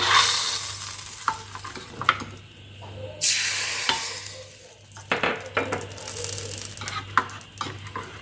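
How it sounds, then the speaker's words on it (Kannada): A ghee and cumin tempering sizzles loudly in a pan for a homemade pomegranate peel tambuli. Bursts of spitting hiss rise and fall between clinks and scrapes of a metal spoon against the pot. "ತುಪ್ಪ ಮತ್ತು ಜೀರಿಗೆ ಹಾಕಿರೋ ಒಂದು ಒಗ್ಗರಣೆ ಕೊಡ್ತಾ ಇದ್ದೀನಿ"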